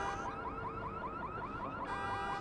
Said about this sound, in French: il faut déclencher l'alarme.